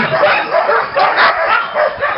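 Sled dogs hitched to the front of a sled at a husky homestead in Denali, Alaska, bark and yip close by in a continuous eager chorus.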